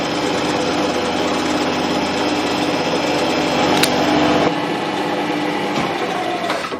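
A bar-stock T-nut blank has its end faced clean on a machine tool in a workshop, giving a steady high whirring drone throughout. Near the middle the tone shifts slightly, and a few light clicks and knocks sound over it.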